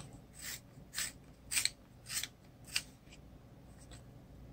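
A dark umber coloured pencil being sharpened, a series of about six crisp, close grinding strokes at a steady rhythm with quiet pauses between.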